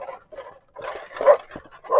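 Dogs bark and yip in short bursts as they chase along a bypass road near a river, fairly close with uneven bursts of varying loudness.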